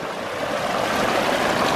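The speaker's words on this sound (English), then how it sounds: "Look at that waterfall." Water from a pond waterfall spills over boulder work, producing a steady, full rushing splash that holds constant throughout with no pauses.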